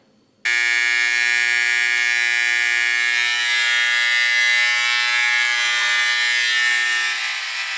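A brand-new electric hair clipper buzzes loudly and steadily for most of the stretch, switching on abruptly after a brief quiet start and holding a bright, constant motor whine during a home self-haircut.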